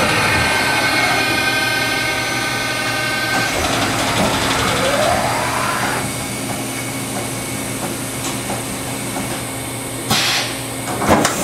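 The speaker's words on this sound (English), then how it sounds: "Spindle's running at 1250 RPMs right now" A Daewoo DMV-400 vertical machining center spindle spins at 1250 RPM, a steady mechanical hum with high whining tones that shift partway through, and a brief clunk near the end, no one speaking.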